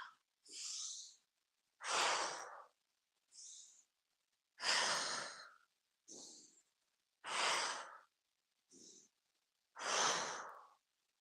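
Slow qi gong breathing, each deep inhale followed by a longer, airy exhale out the mouth, repeated in a steady rhythm, close and clear with nothing else around it.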